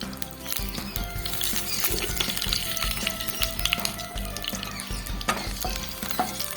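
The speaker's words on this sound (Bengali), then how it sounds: "জিরাটা একটু ভেজে নিতে হবে ভালো করে" White cumin seeds fry in oil with dried red chillies and bay leaves for tempering a khichuri, producing a loud, crackling sizzle with busy stirring scrapes, close and continuous without speech.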